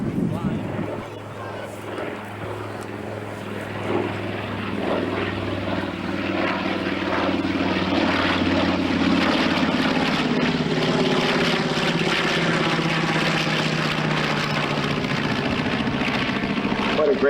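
A radial piston aircraft engine with two rows of seven cylinders runs at an airport open day, a deep throbbing drone that rises and grows louder and fuller as it spools up, with a voice briefly present.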